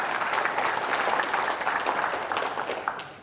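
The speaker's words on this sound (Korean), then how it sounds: "참석자 소개 한번 큰 박수 부탁드립니다." Audience at a Naju city council policy debate forum applauds as panelists are introduced, a steady burst of clapping lasting a few seconds and slowly tapering off at the end.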